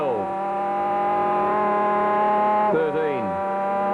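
Superbike engine at a 1989 road race at Phillip Island holding a high, steady scream around 11,000–12,000 rpm, loud and close, with a quick gear-change dip and pitch fall near the end.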